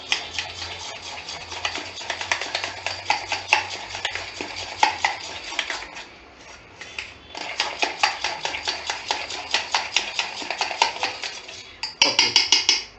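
Curd with chopped coriander being whisked in a bowl, a rapid run of close, bright ticking strokes against the bowl, pausing briefly midway before carrying on, with no talking.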